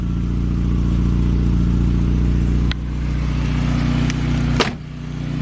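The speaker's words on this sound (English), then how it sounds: "Let's see, we're idling pretty good." A 1997 Honda Civic engine idling after a partial rebuild, a loud steady low rumble heard close up, with a couple of sharp clicks and a small dip in the drone near the end, and no talking.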